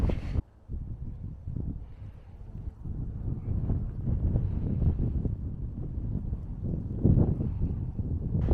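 Strong wind buffets the microphone on a moorland path in the Peak District's Burbage Valley, a low, constant roar with irregular gusty thumps throughout and no talk.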